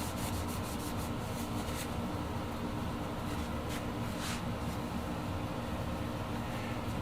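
A cloth rubs back and forth over the frets of an acoustic guitar, a continuous close scrubbing hiss with a few brighter swipes, no talking.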